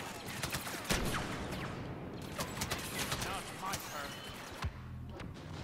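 Rapid blaster fire from the video game Star Wars Battlefront on PS4 multiplayer comes in a dense, uneven burst of quick shots. Thuds and impacts are mixed in, with faint voices underneath.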